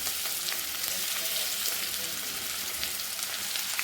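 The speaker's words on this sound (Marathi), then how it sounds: "कांदा आपल्याला व्यवस्थित परतून घ्यायचा आहे लाल होईपर्यंत।" Finely chopped onion sautés in hot oil with mustard seeds and cumin in a kadai, producing a dense, even, continuous sizzle that stays close and loud throughout, with no voices.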